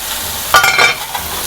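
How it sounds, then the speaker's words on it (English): Brisket sears in hot olive oil in a pan, giving a short, close sizzling burst that swells and quickly fades to a low hiss. "I'm going to take this and sear it."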